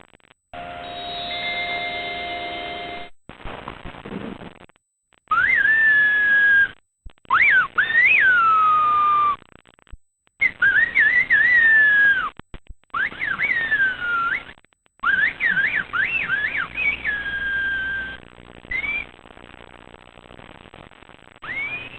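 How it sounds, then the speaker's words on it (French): Silbo, the whistled language of La Gomera's shepherds, carried in long piercing whistled phrases that glide and bend in pitch, broken by short pauses, loud and clear without speech. "Cette étrange langue sifflée, c'est le silbo, la langue des bergers de la Gomera"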